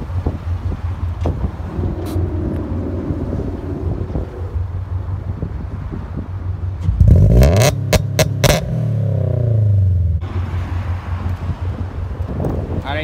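A Subaru BRZ running an E85 stage 2 tune idles with a low rumble, then a series of sharp, loud revs climbs and falls in quick succession before it settles back to a steady idle outdoors, with wind noise throughout.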